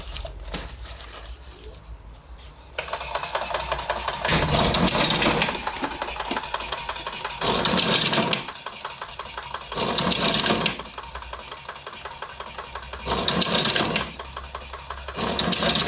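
A Karaşimşek TM Pro tobacco cigarette rolling machine runs with a loud, steady mechanical whir, swelling in repeated bursts of rapid clatter after a quieter start, with no talk over it.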